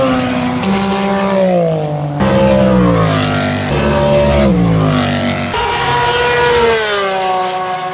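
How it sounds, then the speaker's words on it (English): Race cars at Petit Le Mans 2019 scream past on the racetrack one after another, loud engine notes swooping up and down as each car passes close by, over about eight seconds with no talk. "the race car did get onto the racetrack and just listen to this"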